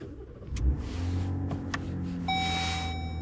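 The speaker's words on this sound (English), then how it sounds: "I'm gonna go ahead and turn the truck on so y'all can see how quiet it is" A Ram Warlock pickup truck engine turns over with a short crank and thump, then settles into a quiet, steady idle with a faint high whine.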